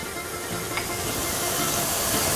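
Oregano and thyme fry in a pan for a Greek spaghetti bolognese sauce, giving a steady hissing sizzle that grows slightly louder with time, with no voices.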